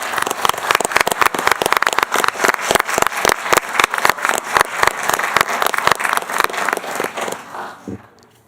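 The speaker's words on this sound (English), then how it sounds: "Could we give everybody a round of applause," A crowd applauds loudly and steadily for several seconds at a school board meeting, dense clapping that fades out near the end.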